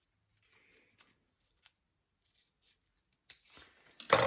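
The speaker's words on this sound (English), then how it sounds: "you want to trim these ends so they're flush with the rest of your zipper" Scissors snip the nylon ends of a zipper flush during a sewing project, a handful of short, sharp clicks spaced apart in near silence, then a louder rustle of handling close by at the end.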